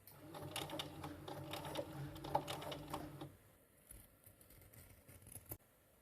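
Sewing machine stitching fabric for a loudspeaker cover, heard as short rapid bursts of needle chatter that stop and restart as the fabric is turned, then fading to faint handling noise.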